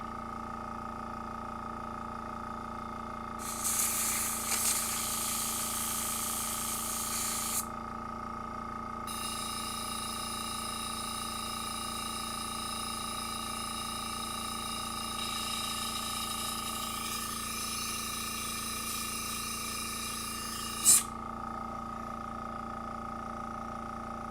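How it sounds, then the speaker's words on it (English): An airbrush used for miniature painting sprays at full pressure in two bursts of bright, steady hissing over a constant compressor hum, ending with a short click. "at least I got my airbrush going. And it's back to full pressure"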